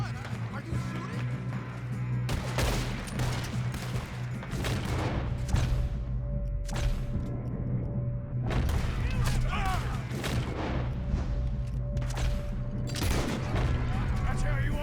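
Gunfire in Red Dead Redemption 2, with bursts of loud shots and fusillades clustered in waves over a steady rumbling background, sometimes under talk from in-game characters.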